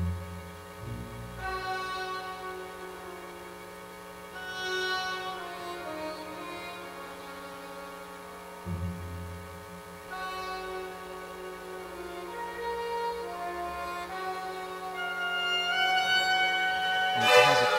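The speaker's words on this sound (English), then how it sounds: "asymmetrical motif that's syncopated and kind of constantly shifting, and it sounds like this." An orchestra performs an excerpt from Mahler's Resurrection Symphony, a syncopated, shifting yearning motif in soft sustained strings and winds that swells gently with occasional low accents, building toward the end.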